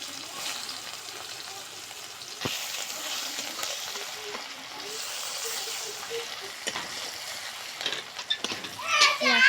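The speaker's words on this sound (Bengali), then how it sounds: "পেঁয়াজটা আমার ভাজা হয়ে গেছে।" Chopped onions sizzle steadily in hot oil with bay leaves, cinnamon and cardamom in a pan, a continuous crackling bed broken by occasional stirring clatters, with children's voices and talk in the background.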